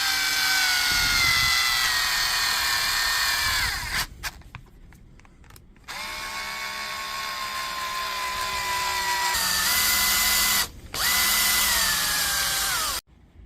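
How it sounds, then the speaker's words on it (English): A cordless power drill drives screws back into the housing of a repaired power tool, running in several long whirring bursts that stop briefly, spin down and start again, close and loud, with no talk. "Just time to put the screws back in again."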